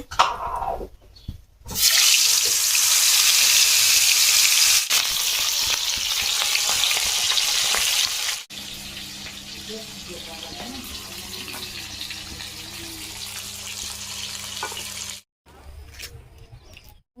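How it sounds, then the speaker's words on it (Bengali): Fish coated with salt and turmeric goes into hot oil in a wok. A loud, hissing sizzle bursts up after a brief quiet start, then settles into a steadier, softer crackle of frying. "তেলটা আমার গরম হয়ে গেছে আর এদিকে লবণ হলুদ দেওয়া মাছ এবার দিয়ে দেবো কড়াইতে"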